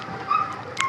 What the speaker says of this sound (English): now the neighbor's dog is whining